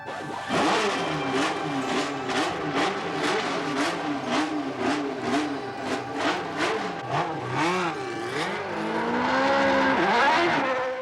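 1986 Formula One cars scream past one after another, high-pitched engines rising and falling in rapid pulses, with gear shifts and a final roaring acceleration.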